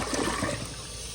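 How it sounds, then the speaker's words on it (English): A 2007 Mansfield Alto standard-height toilet flushing, with a loud, close rush of water that swirls steadily and then begins to ease off, heard alone. "So here is another flush."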